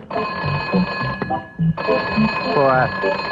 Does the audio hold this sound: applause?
no